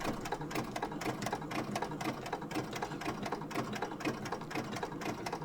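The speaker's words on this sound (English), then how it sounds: "I always sew very slow, going around curves" A sewing machine stitches a quilted bomber jacket at a slow, even pace, giving a continuous close mechanical whirr with rapid rhythmic needle clatter and no pauses or voices.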